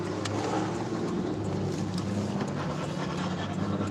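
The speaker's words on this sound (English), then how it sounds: "this huge truck is gunning it, making so much noise" A heavy engine rumbles loudly and steadily nearby, a big vehicle straining as it pulls away.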